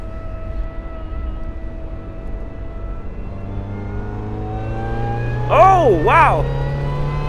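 Supercharged NB Mazda Miata with stock suspension accelerating on a track, a steady engine drone climbing in pitch over several seconds, with a sharper whining rise near the end, under a person's excited voice.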